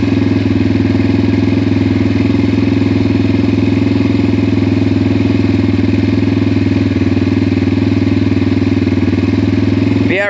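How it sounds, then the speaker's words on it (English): A brand new 2018 Yamaha TTR230 motorcycle idles with the choke on, a loud, steady mid-pitched engine thrum with a faint mechanical rattle, running evenly and continuously throughout. "Let's see what happens when we turn the choke on. Oh, okay, it just idles a little higher to warm it up."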